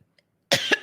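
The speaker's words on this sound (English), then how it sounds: "Sorry, got a little cough in here." Two or three quick, sharp coughs close to the microphone after a brief moment of silence.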